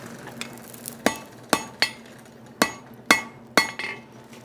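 Hammer blows on a hot steel chain link being forge welded, about six sharp ringing metallic strikes spaced roughly half a second apart, close and loud over a low forge hum.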